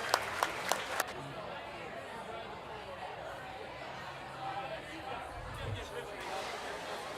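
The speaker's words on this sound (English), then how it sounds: "Let's give all these exhibitors a great round of applause." At a county fair dairy cattle show, the audience gives exhibitors faint, distant applause. A few sharp claps open it, then it fades into soft scattered clapping mixed with crowd chatter.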